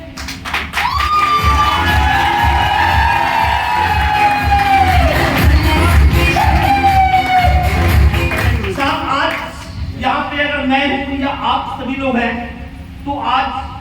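Audience applause and cheering at a leadership program event in Gurgaon, Haryana: a dense, steady roar of clapping and crowd noise that carries on throughout, with voices and shouts mixed in.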